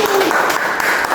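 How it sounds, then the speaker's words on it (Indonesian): Brief burst of applause for two guests in a communication-studies podcast, a dense wash of clapping lasting about a second, with a faint voice mixed in. "Beri tepuk tangan untuk dua narasumber kali ini."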